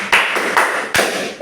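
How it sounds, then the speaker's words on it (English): A class claps hands during an Epie language lesson, a few sharp bursts of clapping close by with brief gaps between them. "Clap for yourself."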